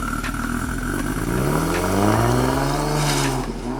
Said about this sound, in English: Now the idle is a bit lumpy because of course it's got a lot of stuff that changes, optimized for a much higher RPM